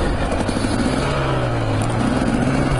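Enduro motorcycle engine running on a wet, muddy autumn trail in the Basque Country, a steady droning hum with a slowly rising and falling pitch, close and continuous throughout with no voices.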